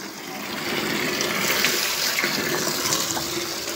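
Water running steadily from a tap while feet are washed, a loud, continuous close-up splashing rush with no talk over it.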